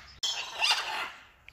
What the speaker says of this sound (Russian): Тоже ара. Но они не разговаривают, только кричат.